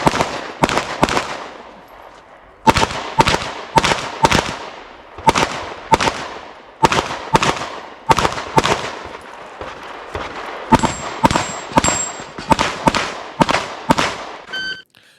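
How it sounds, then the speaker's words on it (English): Rapid strings of loud, close gunshots from a shooting match stage, fired in quick bursts of two or three with short pauses between, about twenty shots over fifteen seconds with sharp cracks and brief echoes. "you had to load the gun, get it going, and then just shoot the targets"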